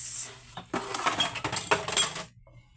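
Plates and dishes knocked and clinked together while being washed, a burst of close clattering ceramic and cutlery that settles into quieter rattles.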